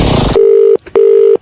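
A telephone is dialled for a prank call: a short burst of noise, then two long steady electronic tones separated by a brief gap, loud and close.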